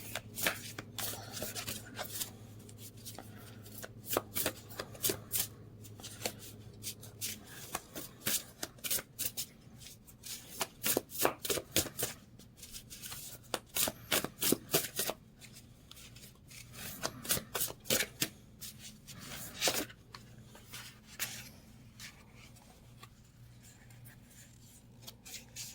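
Oracle card deck being shuffled by hand, a long run of crisp riffling bursts and soft rubbing slides at close range, pausing briefly between shuffles, with no talking.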